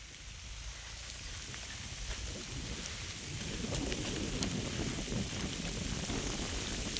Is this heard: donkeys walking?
no